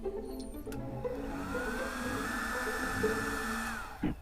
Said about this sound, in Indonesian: Kalau masih susah, hair dryer lagi ya, jangan segan-segan, tapi jangan terlalu dekat karena bisa bikin panas papannya ya